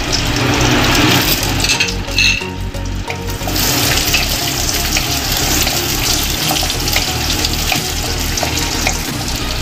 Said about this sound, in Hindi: थोड़ा सा घी मेरा गर्म हो गया अब इसमें मैं काजू और किशमिश इसको हल्का फ्राई कर लूँगी